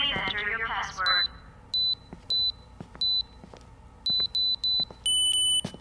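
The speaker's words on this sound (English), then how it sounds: "Let me just turn the alarm off." A home alarm system keypad gives a series of loud, evenly spaced electronic beeps, ending in a longer multi-tone chime, with speech at the start.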